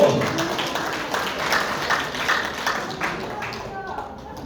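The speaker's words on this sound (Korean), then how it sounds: "박수 한번 보내주십시오." An audience in a conference hall at a Democratic Party Gyeongbuk launch event claps in a steady patter while a voice talks over it, the applause gradually thinning.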